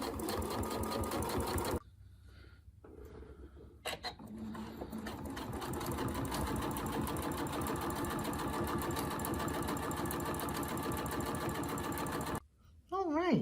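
A sewing machine runs in long steady bursts, hemming pants with a twin needle, stopping briefly before resuming its fast loud mechanical whir close by.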